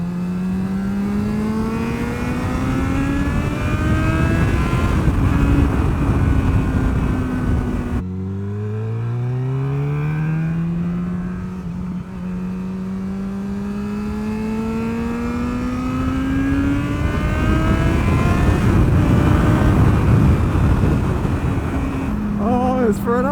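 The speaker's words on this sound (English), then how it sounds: "for an old XJ6 this bike sounds ridiculous." Engine of an old Yamaha XJ6 motorcycle revving hard, its pitch climbing and holding, dropping sharply, then climbing again through long loud sweeps, close and dominant with no talk.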